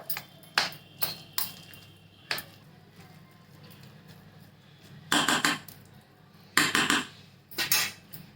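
Spoon clinking against a metal pot while chopped coriander is stirred into raw mango dal, a series of close, light metallic taps and scrapes in small clusters, separated by quiet pauses.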